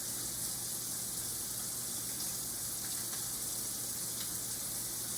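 Tap water runs steadily into a sink while hands are rinsed clean of soap, a constant close hiss with no talk over it.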